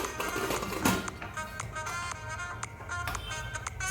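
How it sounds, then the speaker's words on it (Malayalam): A pressure cooker lid being closed over rice just starting to boil, a few short metallic clacks and taps, one sharper knock near the start, over a steady low kitchen hum. "തിളയ്ക്കാൻ തുടങ്ങുന്ന സമയത്തിന് നമുക്ക് ഈ കുക്കർ അടച്ച്"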